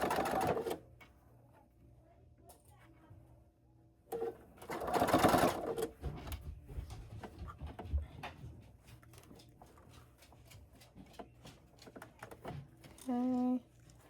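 Sewing machine stitching fabric for a tiny traveler case, with short bursts of rapid mechanical chatter separated by quiet pauses and handling clicks, fairly close and moderately loud.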